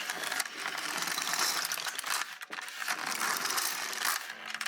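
An LK150 knitting machine carriage slides across the needle bed knitting rows, giving a loud, close mechanical ratcheting and clattering that runs almost continuously with a brief dip partway through.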